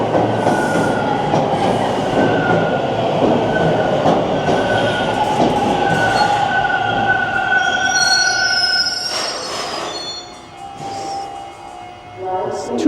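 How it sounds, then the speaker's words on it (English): Two eastbound subway trains rumble past a Toronto station near Bloor Street, a loud, sustained roar with squealing wheels and clattering rails that eases off toward the end. "There's 2 trains going eastbound."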